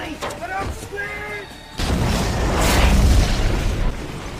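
Bombs explode in a film scene: a deep, booming explosion erupts after a moment of voices, followed by a sustained roaring rumble like a nearby blast.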